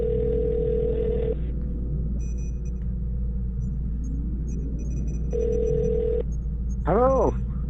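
A phone rings in two long electronic bursts separated by a pause, steady and fairly loud over a low constant hum, with a brief chirping tone at the end.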